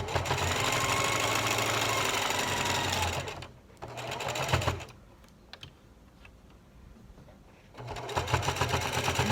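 A sewing machine stitches a fabric mask in rapid, steady bursts, running loud and close, pausing briefly in the middle with soft handling noises before the fast stitching resumes.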